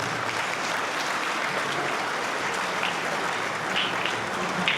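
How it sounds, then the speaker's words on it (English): A charity gala audience applauds in a sustained, even roar of clapping from a large crowd that fills the room for several seconds. "Give yourself a great round of applause."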